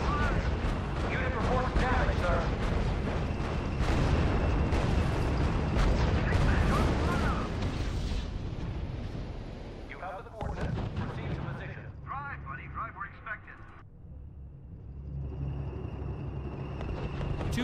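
Tank cannon fire and explosions in the strategy video game RUSE, a dense, loud barrage of booming blasts and battle noise that thins out after the first half, with voices speaking in the mix.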